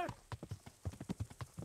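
A dapple-grey horse ridden in Kingdom Come: Deliverance clip-clops in a steady, even trot. The close, distinct hoofbeats open with a brief higher-pitched sound.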